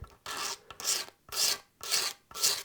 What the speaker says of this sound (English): So now we'll start to just work our way around and start scraping this binding down.